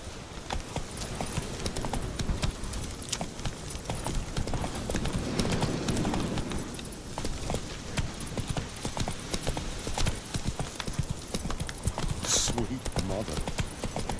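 Horse galloping in The Witcher 3, a dense continuous drumming of hooves under a busy mix of ambient game sound, steady and fairly loud for the whole stretch.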